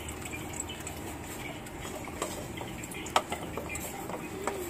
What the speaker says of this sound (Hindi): बर्तन धो रही है ना, देखना इधर